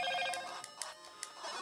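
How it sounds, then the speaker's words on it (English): A phone rings with a bright electronic ringtone, a sustained tonal opening followed by several short repeated chirps. "my phone's making noise"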